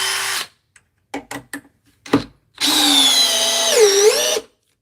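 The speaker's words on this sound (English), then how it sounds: "So we are in drill speed 2." Short clicks and taps, then a DeWalt power drill on speed 2 drives a 2.5-inch screw, whirring steadily for about a second and a half, its pitch dipping as it strains before stopping.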